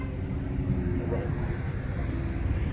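A large road vehicle, probably a bus, rumbles low and steady close by throughout, with no clear rise or fade.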